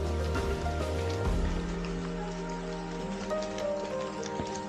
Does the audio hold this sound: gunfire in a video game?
no